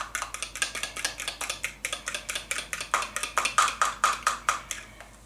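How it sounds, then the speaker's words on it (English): Eggs whisked briskly in a bowl, a close, rapid and steady ticking of the whisk against the bowl, about five strokes a second, with no talking. "Whisk the eggs."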